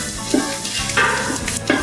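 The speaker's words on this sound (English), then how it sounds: "mix that around so it's nice and evenly coated across everything." A spoon stirs Cajun seasoning through a shrimp mixture in a pot for spicy shrimp gumbo, giving a steady sizzle with a few scraping knocks close by and no talking.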